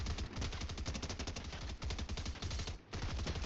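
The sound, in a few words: SMG gunfire in the video game Fortnite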